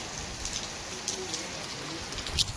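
Rain falls in a village, a steady close patter with a few louder drips now and then, and faint background sounds.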